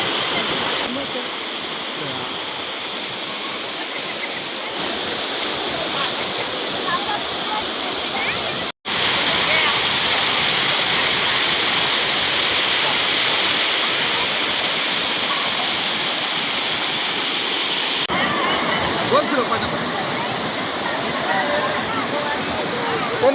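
Steady roar of a village waterfall at a dam in Harkul Khurd in the Konkan, a dense continuous rush of falling water close by, with one brief dropout midway.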